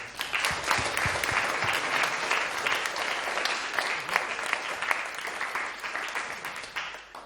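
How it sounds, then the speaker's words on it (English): An audience at a startup talk applauding a guest speaker, with a full, steady round of clapping in which individual claps stand out, lasting several seconds and easing slightly toward the end. "just a round of applause for Raj for joining us today."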